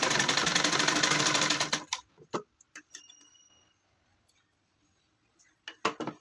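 A sewing machine runs steadily while stitching a child's gown, its fast mechanical whir close and continuous for nearly two seconds, then stops, leaving scattered clicks and handling taps of the fabric and machine.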